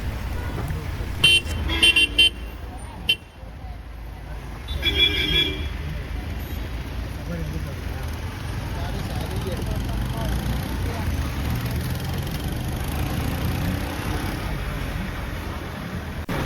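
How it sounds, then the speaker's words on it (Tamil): Heavy road traffic at the Masinagudi junction in the Nilgiris, with car horns tooting in short bursts early on over a steady rumble of engines and passing vehicles, and voices talking through it. "நம்ம மசனகுடி பிரிகிற இடத்துலேயே வந்து பார்த்திங்கன்னா பயங்கர டிராஃபிக்குங்க"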